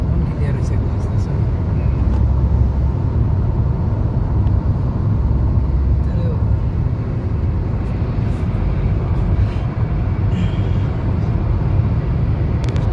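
A vehicle speeds at 110 along a cleared road, heard as a loud, steady roar of engine and wind rushing from inside the cabin without a break, while people talk over it.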